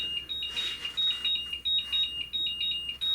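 A battery charger beeps while charging batteries, giving out a steady pattern of short, high electronic pips, quiet and close by, under a soft background hiss.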